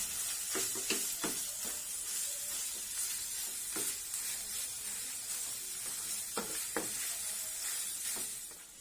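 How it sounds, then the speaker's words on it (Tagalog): Meat filling sizzling steadily in a pan as it browns, a continuous close hiss with occasional stirring scrapes and pops, no voices. "Cook this until it's brown."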